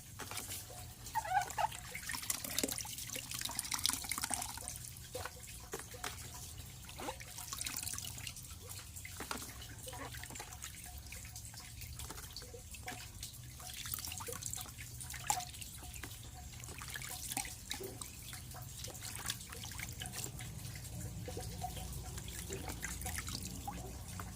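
Fermented bamboo shoots being rinsed in water, with soft steady drips and trickles against a low background hum, continuing throughout without any talk.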